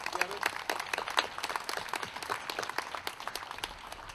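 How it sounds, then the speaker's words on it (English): An outdoor crowd at a 4th of July parade event in New Haven, Indiana, claps for the organizers and volunteers. Scattered, uneven hand claps run throughout, with voices mixed in. "Can I have a round of applause for the organizers,"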